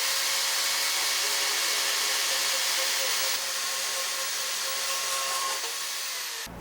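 A VEVOR portable band saw on its stand cuts metal, giving a loud, steady broadband whir with a faint high whine that holds for several seconds and then stops abruptly at the end. No one speaks.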